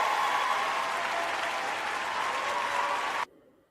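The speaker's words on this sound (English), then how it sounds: "So I'm gonna give both of you the heavy cheering, right?" Dense, steady applause, like a sound effect, fills the air evenly for a few seconds, then cuts off abruptly into near silence.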